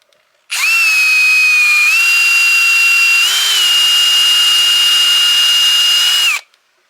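A small power screwdriver whirs steadily for about six seconds, driving a screw into deck wood. Its high motor whine holds nearly constant and shifts pitch slightly as the load changes, then cuts off sharply.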